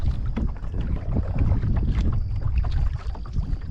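Wind gusts buffet the microphone on a kayak fishing trip off the Nature Coast near Yankeetown, Florida, on a windy day, making a loud, steady low rumble with some water sloshing and no talk.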